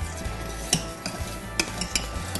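A utensil stirs boiling gravy in a pot for biscuits and gravy. Soft bubbling and a low simmer run underneath a few sharp scrapes and clinks against the pot, spaced about half a second to a second apart.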